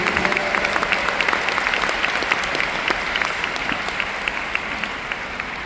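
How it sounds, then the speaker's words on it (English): A seminar audience at a leadership training event in Budapest applauds in a sustained, dense patter of clapping that stays fairly even and slowly eases toward the end. "Yes, please an applause for David."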